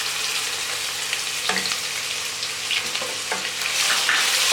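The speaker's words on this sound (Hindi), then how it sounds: "तेल हमारा गर्म हो गया है। अब हम इसमें ये अदरक लहसुन का पेस्ट डालते हैं।" Ginger garlic paste sizzles steadily in hot oil in a karahi while preparing chicken karahi, a dense close frying hiss with occasional stirring clinks and scrapes.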